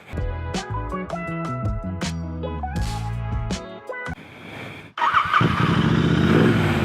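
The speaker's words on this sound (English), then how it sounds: "Let's start the bike up and let's go." Brief tonal sounds give way to a motorcycle engine that fires up abruptly near the end and settles into a loud, close, rumbling idle.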